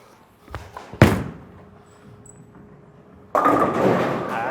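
A bowling ball rolls down the lane with a sharp thud at release, a quiet roll, then a loud clattering crash of pins near the end.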